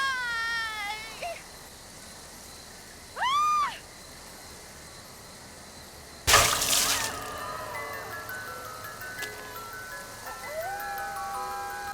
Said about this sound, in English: suddenly you start hearing babies and like ice cream truck music